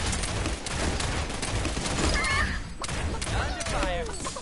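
Gunfire in the battle royale game Realm Royale, with an heirloom rifle in play: dense, steady shots and impacts fill the mix, with a few whistling effects as players talk over the action.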